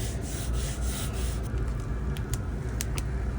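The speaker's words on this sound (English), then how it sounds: "I'm using a soft squeegee." A soft squeegee steadily rubs a large vinyl decal down onto a surface, making a close, continuous scraping swish with a few faint ticks.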